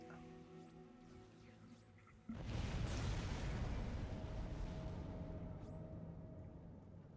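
A sudden loud thermite bomb explosion in the video game Dead Space bursts in after a quiet stretch, followed by a long rumbling roar that slowly fades, with a faint tone lingering.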